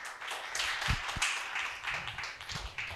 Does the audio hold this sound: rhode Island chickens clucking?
no